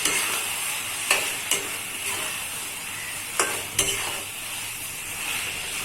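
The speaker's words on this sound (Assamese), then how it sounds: "ভালকৈ লৰাই দিম।" Ground mustard paste being stirred into frying sponge gourd and local fish in a pan, with a soft steady sizzle and several sharp spoon scrapes against the pan at irregular intervals.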